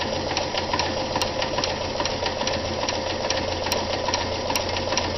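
Vintage Kenmore 158.14100 sewing machine running a reverse-cycle stretch stitch, a steady close mechanical whir with rapid rhythmic needle knocking and a faint back-and-forth pulse, no voices.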